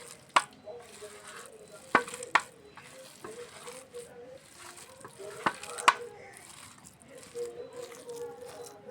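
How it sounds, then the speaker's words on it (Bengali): Banana flower fritters (bora) frying in oil, giving a soft, bubbling sizzle close by, punctuated by several sharp clicks of a utensil, with a voice talking over it at times. "তখন বড়াটা ভাজবেন খুব মুসমুসা হবে"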